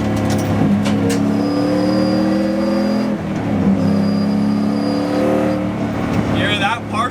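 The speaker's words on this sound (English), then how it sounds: "You hear that partial throttle, you hear the throttle body open just a little bit." Intake note of a 450 hp 1UZ V8 swapped into a Lexus IS300 drift car at partial throttle, a loud, steady close-up drone with slight rises in pitch and a faint squeak.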